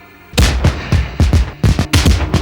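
Rapid bursts of fireworks from an Asian Games opening ceremony in Bangkok, heard through a television broadcast: a loud run of sharp, booming cracks in quick irregular succession, with no talk over them.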